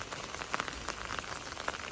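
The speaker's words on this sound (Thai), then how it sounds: "อันนี้ฝนตกหนัก" Heavy rain pours steadily on a surface near a shop in a rural Lao-speaking area, a dense, even hiss with scattered sharper drops pattering through it, no voices.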